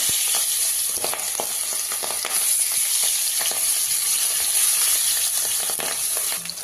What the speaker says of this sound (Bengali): এদিকে মাছ ভাজা হতে লাগুক